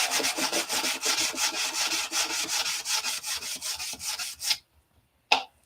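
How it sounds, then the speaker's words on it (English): Two wood pieces are sanded with sandpaper in quick, even back-and-forth strokes, close and clear, about twenty rasping passes before it stops, then one short scrape after a pause. "You just take some sandpaper and"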